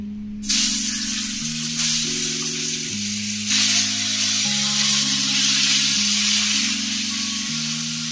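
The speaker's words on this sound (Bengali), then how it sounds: "এই তেলেই আমি আলুগুলো ভেজে নেব।" Potatoes hit hot oil left from frying chitol fish, bursting into a loud sizzle after a brief quiet start, then a steady, bright frying hiss under faint kitchen hum.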